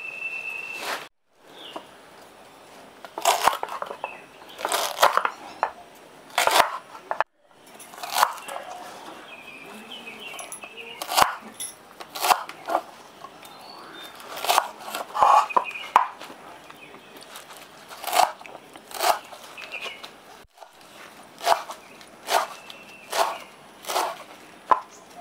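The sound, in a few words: cutting vetkul greens for a recipe with prawns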